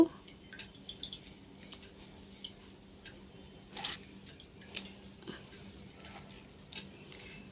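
Water drips and splatters from homemade mozzarella being squeezed by hand after soaking in cold water, a quiet run of small irregular drops and wet squishes over a faint steady hum.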